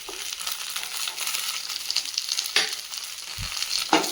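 Slit green chillies are mixed and sautéed in a pan for a tangy chilli dish, giving a faint continuous frying sizzle with occasional scraping strokes and a couple of louder knocks toward the end.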